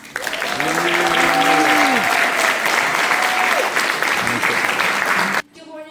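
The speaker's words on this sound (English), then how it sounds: "Please join me in giving a warm and enthusiastic round of applause" Dense, sustained audience applause fills a keynote address at a Kappa Alpha Psi scholarship event, with a few cheering voices and whoops rising over the clapping early on, then cutting off abruptly near the end.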